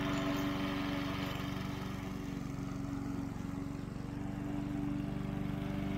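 Steady droning engine of a lawn mower cutting grass in a video game, a constant low hum with a faint buzzing rhythm, fairly quiet and unbroken with no talk.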